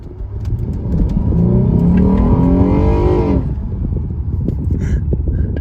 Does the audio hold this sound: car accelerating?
yes